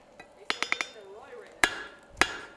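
Hot steel being forged into a decorative hacksaw rings under hammer blows on an anvil: a quick run of four sharp strikes followed by two heavier, isolated clangs, loud and close.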